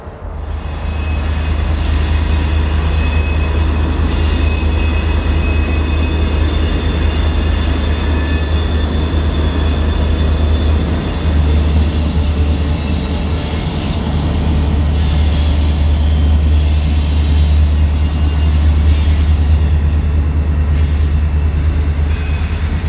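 A Reading & Northern freight train rolls steadily downgrade on a near 1% grade toward a yard by the Lackawanna River, with constant loud low rumble, wheel and car noise and faint high squeals throughout.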